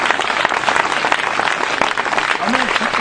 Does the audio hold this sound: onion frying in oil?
no